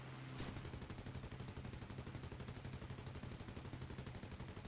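Rapid sustained automatic gunfire in the combat video game War Thunder, a fast even rattle of shots running continuously at low level after a brief burst at the start.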